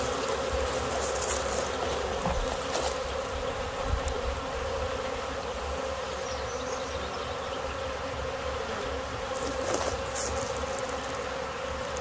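A dense, steady buzzing hum of a honeybee swarm in a bucket fills the clip continuously, loud and close, with no talking.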